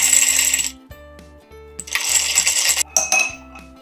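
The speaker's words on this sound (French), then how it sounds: "on va mettre de la glace dans notre verre à mélanger et on va mélanger ça" Ice stirred in a cocktail mixing glass for a Negroni gives close, loud clinks and bright glassy rattling in bursts, with a low hum underneath and no talking.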